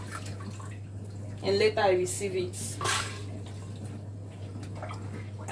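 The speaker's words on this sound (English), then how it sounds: "As I'm blending, I'll be pouring it inside this container." Blended millet liquid for Nigerian akamu (ogi, pap) is poured into a container, giving a wet splashing trickle with light clinks of kitchenware while someone talks over it.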